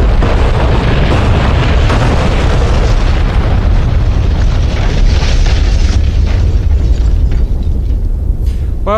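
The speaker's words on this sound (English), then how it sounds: "We managed to get one bomb on the runway." Bombs from an AV-8B Harrier detonate on a runway in the DCS World flight simulator, a loud continuous roar of explosion rumble and bursting booms that dominates throughout.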